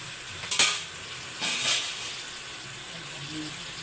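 Chicken menudo is stirred in a pan, giving two brief scraping swishes over a low, steady sizzle. Close and fairly quiet.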